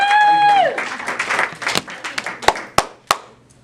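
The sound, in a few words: audience applause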